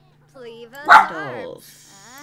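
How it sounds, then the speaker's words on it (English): A pet dog barks a few times at close range, briefly mixed with a person speaking, after which quieter indoor talk carries on. "Sorry about the dog."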